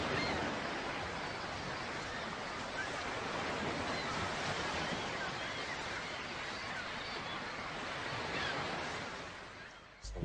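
Sea waves and surf wash steadily offshore, a continuous broadband roar that rises and falls gently throughout with no voices, fading slightly at the very end.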